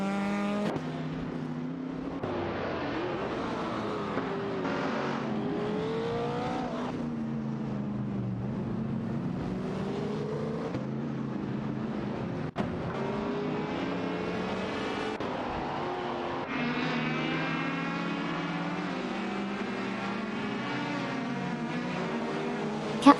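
Race cars, among them an Alpine A110 1800 and a Lancia Stratos HF, roar through a video game race, engines rising and falling in pitch as they shift gears and jostle for position, continuous and fairly close.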